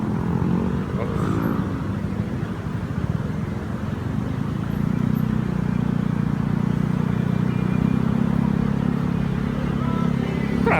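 Steady road traffic on a hot Sunday in Metro Manila, heard from a Yamaha Mio Gear 125 scooter, with a continuous low engine and road drone from nearby cars and motorcycles including a Honda Click, and light speech partly under it.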